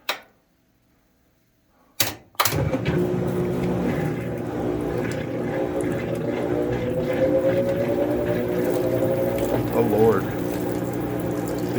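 A Maytag commercial top-loading washing machine, lid up, fills with water: after a couple of sharp knocks, a steady rushing inflow with a mechanical hum runs continuously and fairly loud to the end.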